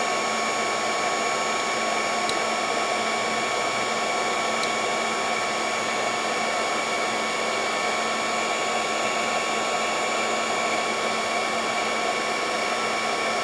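Heat gun blowing steadily on vinyl lettering applied to a floating bauble ornament, a continuous airy whir with a constant pitch that holds alone for the full stretch without any talk.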